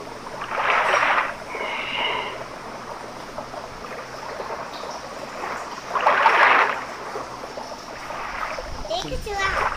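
A turtle swimming and splashing in water produces two louder bursts of splashing amid steady watery background noise, with a voice and other talk heard nearby.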